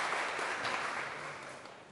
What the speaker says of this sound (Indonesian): Mari kita sambut dengan beri tepuk tangan.